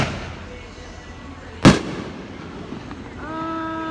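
A single firework bursts with a sharp, loud crack midway, heard outdoors over background chatter, with people talking before and after.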